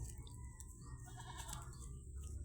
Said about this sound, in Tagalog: Saan yung kambing?